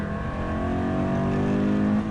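A car accelerates hard with the foot to the floor, its engine drone steady and loud and climbing slightly in pitch, with no talking.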